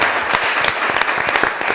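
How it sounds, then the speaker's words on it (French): Studio audience applauding a game show contestant, a dense burst of loud clapping filling the whole moment. "est-ce qu'on peut l'applaudir encore une fois?"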